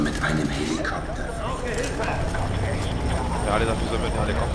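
A helicopter's rotor and engine drone steadily under loud game sounds and overlapping talk in the video game F.E.A.R. 3.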